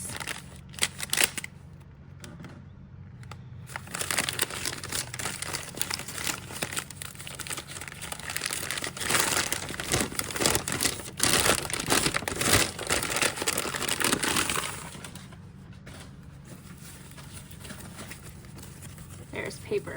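Packing paper crinkling and rustling while crystals are unboxed for a small crystal shop, continuous close crackling with louder bursts and quieter stretches, with someone talking over it at times.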